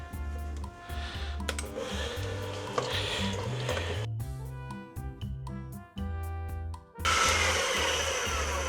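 An electric mixer beats a Polish Krakow-style cheesecake batter, its motor whirring with a shifting pitch and interrupted by short stops and restarts, and a loud burst of whirring comes near the end.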